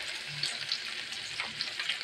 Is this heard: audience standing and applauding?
no